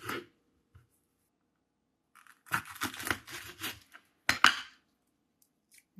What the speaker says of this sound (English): I'm going to cut my banana pepper.